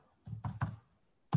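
Three or four quick keystrokes tap on a computer keyboard, close and fairly quiet, followed by a pause and one more sharp keypress at the end.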